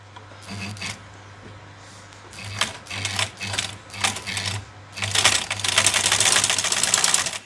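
A black sewing machine is tested on a long straight seam, with short whirring bursts of stitching that build into a longer, louder continuous run, heard close with no speech.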